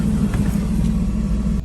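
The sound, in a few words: G6 red sports car engine running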